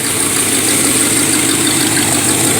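A Chevrolet Caprice with fuel issues runs steadily at idle, a loud, constant engine drone with a low rumble and no speech over it.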